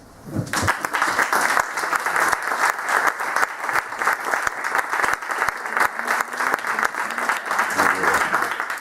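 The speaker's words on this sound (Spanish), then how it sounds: "Por eso pido un aplauso" Lecture-hall applause at a conference by a speaker: an audience claps steadily and fairly close for nearly nine seconds, a brisk, sustained patter with a softer moment of speech underneath.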